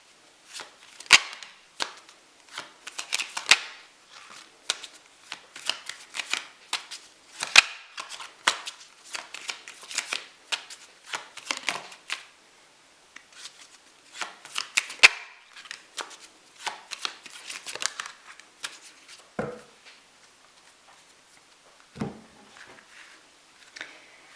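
Cards are shuffled and handled during a tarot-style energy reading, making bursts of crisp, riffling snaps and flicks in irregular clusters, close and fairly quiet, with short pauses between.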